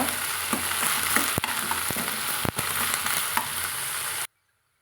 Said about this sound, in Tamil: நல்லா பிஞ்சு கத்திரிக்காயாக நல்லா பொடிக்காக வெட்டி வச்சுக்கிறேங்க அதை நான் சேர்த்து கூட வதக்கிறேங்க